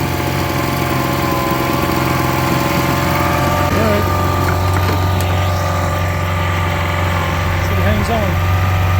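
Honda BF25 outboard motor, its carburetor just rebuilt, running at a steady high idle throughout, loud and close with a constant engine drone; a person speaks briefly over it.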